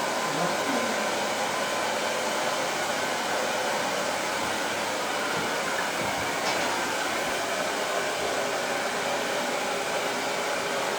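A hair dryer fitted with a YS Park metal mesh diffuser blows with a constant, even whooshing roar at close range, steady for the whole stretch with no voices.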